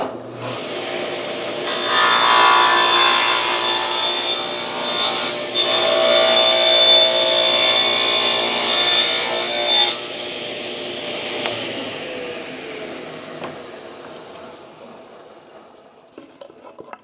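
A saw cuts through a wooden clamp jaw for a workbench clamp in two loud rasping passes with a short break between them, then the blade winds down and a few quiet knocks follow.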